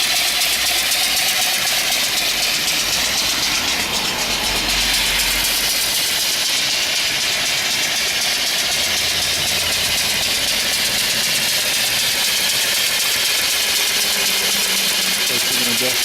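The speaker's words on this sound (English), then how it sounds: "This is a forward and reversing engine, but you only need it in forward, or one direction" Small steam engine running in forward, belt-driving an alternator beside its boiler, giving a steady loud mechanical chuffing hum that continues throughout without pause.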